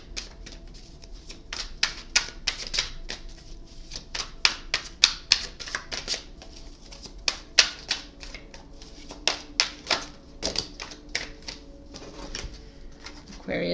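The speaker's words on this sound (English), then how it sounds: "So think of that while I shuffle." Close, quiet shuffling of a tarot deck, with many sharp card snaps and riffles in irregular bursts, and a bird cooing softly in the background.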